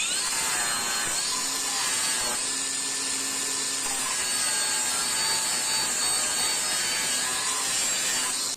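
Angle grinder stripping paint from metal: a continuous high, harsh whine with abrasive scraping, steady and close throughout, with no one talking.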